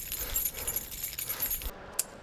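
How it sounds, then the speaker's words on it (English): Keys jingle from a standing crowd at a Cal Poly Mustangs football game, a dense metallic rattle that keeps up for about two seconds and ends with a brief bright clink. "everyone stands up and jingles their keys to give the Mustangs the winning edge"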